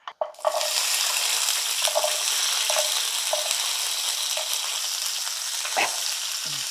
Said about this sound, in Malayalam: ഇനി നമുക്ക് ചെറിയുള്ളി ഇട്ട് കൊടുക്കാം